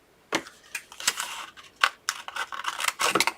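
Scissors snipping through card along a score line, a quick irregular series of crisp, close cuts and rustles with no voices.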